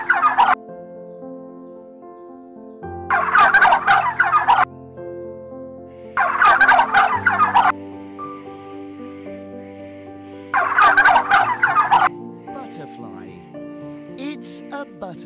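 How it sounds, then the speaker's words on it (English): Turkey gobbling in four loud, rapid rattling bursts spaced a few seconds apart, close and clear over a steady tonal background hum. "Turkey bird. It's a turkey bird."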